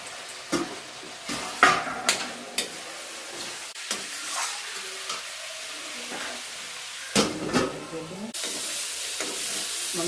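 Besan gatte, cut chickpea-flour dumplings, go into a pan of roasted frying masala and are stirred, giving a steady sizzling hiss with scattered scraping knocks of the spoon, fairly close and without speech.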